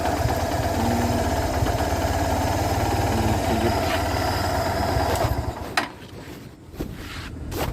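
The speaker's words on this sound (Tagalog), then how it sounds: "Ang umingay yung starter." A Kawasaki Barako motorcycle engine runs with a steady, loud mechanical drone and rattling from a noisy starter, then cuts out, leaving a few sharp clanks and quieter handling noises.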